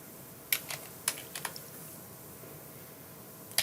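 Typing on a computer keyboard while coding in Visual C++, with a few sparse, crisp key clicks in short clusters, close but soft over faint room hiss and no speech.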